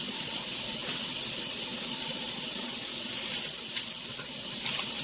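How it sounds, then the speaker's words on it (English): Hot water runs from a kitchen tap in a steady, loud hiss close by, a few faint knocks at the sink over the flow and no voices. "I'm going to just pour some hot water in here. Turn it on hot."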